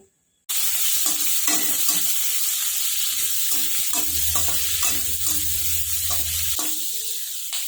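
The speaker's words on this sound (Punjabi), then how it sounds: "ਲਸਣ ਤੇ ਪਿਆਜ਼ਾਂ ਨੂੰ ਆਪਾਂ 10 ਮਿੰਟ ਭੁੰਨਾਂਗੇ" Long-cut onions and garlic fry in oil over cumin and mustard seeds with a loud, constant sizzle. Repeated stirring scrapes and a low hum run through the middle, and no one speaks.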